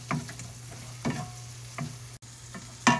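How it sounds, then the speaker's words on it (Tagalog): Garlic and onion sautéing in oil in a pan give a low steady sizzle, punctuated by several sharp spatula clanks and stirring scrapes; close and fairly quiet, with no talking. "So habang ginigisa natin ang bawang, isunod na natin ang sibuyas."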